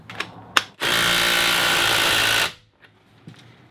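A tool snugs a steel nut and washer down onto a homemade copper rivet in wooden boat timbers, a loud continuous whirring run lasting under two seconds, framed by a few sharp clicks before and after.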